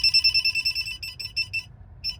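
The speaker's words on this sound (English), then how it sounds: "my phone, for some reason, it sets off my radar detector" Radar detector in a Tesla Model 3, set off by a phone, chirps in rapid high-pitched electronic beep bursts, clear and close, pausing briefly before one final beep.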